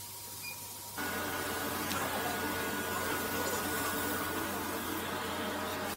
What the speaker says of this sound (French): La première chose à faire est de découper un gabarit en carton au laser.